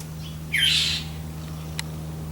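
A small bird gives a short, bright alarm call warning of a hawk, followed a moment later by a brief faint tick, all over a steady low background hum.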